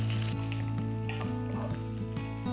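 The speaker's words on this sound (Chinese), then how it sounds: "热锅下点油，下五花肉片翻炒" Sliced pork belly stir-fries in hot oil in a wok, giving a steady, close sizzle with faint clicks of stirring, no voices.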